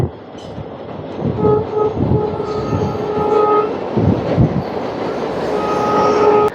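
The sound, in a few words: passenger train passing near Pamban bridge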